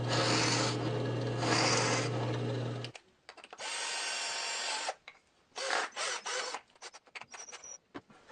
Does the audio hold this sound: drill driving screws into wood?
yes